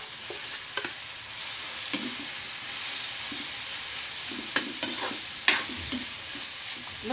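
Smoked tinapa fish goes into a sautéed mung bean dish in a pan, under a steady broad sizzle with a few soft stirring knocks and scrapes, close and without talk.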